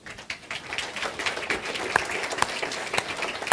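A debate audience breaks into dense, sustained applause, many hands clapping steadily throughout with a few sharper individual claps standing out.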